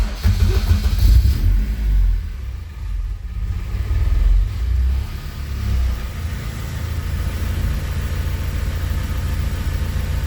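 A Honda K24 engine fitted in a CRX cranks and fires up, then settles into a loud, steady, rumbling run close by. No one speaks.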